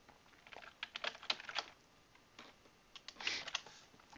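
Computer keyboard typing a welcome message, a quiet irregular patter of key clicks in small bursts with short gaps, close and without voices.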